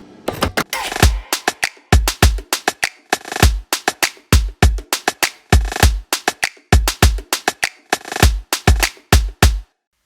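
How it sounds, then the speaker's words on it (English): Electronic build-up drums for a dance track, loud punchy hits with deep low thumps, playing in uneven clustered bursts that stop cleanly just before the end, with no voices. "And then the actual build-up drums sound like this"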